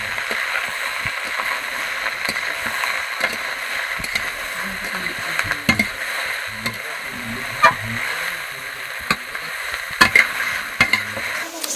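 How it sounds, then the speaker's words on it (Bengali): Okra (bhindi) frying in a pan in a home kitchen gives a steady sizzle, with scattered clinks and scrapes of a utensil stirring it. "আগে কি ভেন্ডি ভাজা হচ্ছে?"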